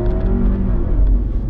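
A 2017 crossover SUV accelerating on a test drive, its engine a quiet, steady low rumble with a smooth hum rising under wind and road noise, no strong engine note.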